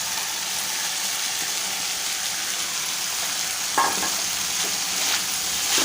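Chopped potato and finely cut cabbage sautéing in a pan give a constant close sizzle and hiss, with a couple of brief scraping stirs near the end and no voices.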